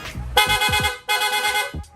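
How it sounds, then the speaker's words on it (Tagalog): Two bursts of a blaring rapid horn on a Yamaha Sniper 155 motorcycle, each held about half a second, separated by a short gap with engine rumble beneath. "Tapos sir, rapid horn naman."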